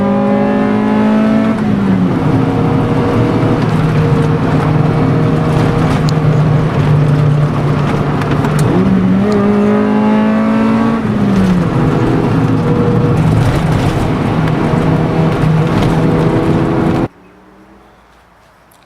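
Honda fitted with a Spoon N1 full exhaust system, muffler and B-pipe, revving loudly while driving, the engine note climbing repeatedly through gear changes before cutting off abruptly.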